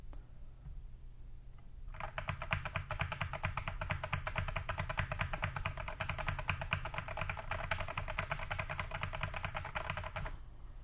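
Fast, continuous typing on an iLovBee i61 mechanical keyboard with a taped PCB gives a dense, even stream of close, muted clacks that runs for about eight seconds and then stops.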